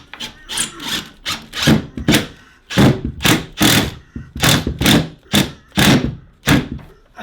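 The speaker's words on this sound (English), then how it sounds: "Let's get the screwdriver, let's get it put in there." A Phillips screwdriver drives screws by hand into a wall for a Flexson mount holding a Sonos One speaker, giving a rhythmic series of close rubbing, creaking twists at an even pace.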